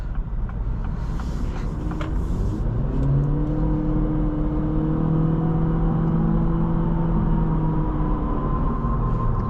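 2026 Acura Integra A-Spec with a 200-horsepower engine accelerating hard, a loud, steady engine note climbing in pitch through the gears under continuous road rumble from inside the cabin.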